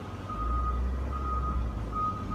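A truck reversing with a repeating single-tone backup beeper, evenly spaced beeps over a low idling engine rumble, some distance away and steady throughout.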